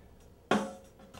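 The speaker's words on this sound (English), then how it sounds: "that's just a snare drum" A single soloed snare drum hit from a recording lands sharply and close, followed by a short decaying tail, with no one talking.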